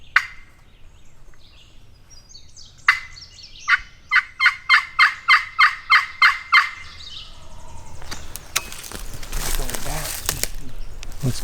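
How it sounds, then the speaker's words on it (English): A wild turkey in Missouri gives a distant series of about nine rapid gobbles, faint but distinct, amid outdoor rustling and crinkling from a nearby hunter's movement. "He just gobbled way up there again."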